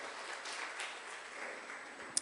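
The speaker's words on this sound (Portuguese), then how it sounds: "Aplaude a Jesus" Church congregation applauding Jesus during a Portuguese-language sermon, a soft, fairly distant patter of many hands that holds steady for a couple of seconds and ends with one sharp louder click.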